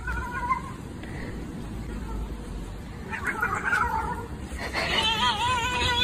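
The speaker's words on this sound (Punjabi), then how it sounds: "ਯਾਰ ਬੜੀ ਸੋਹਣੀ ਕੈਟ ਆ, ਬਹੁਤ ਸੋਹਣੀ ਕੈਟ ਸੀ ਸੱਚੀ" A hungry cat meows in several drawn-out, wavering calls, with a louder cluster near the end, over a steady background hiss and a faint voice.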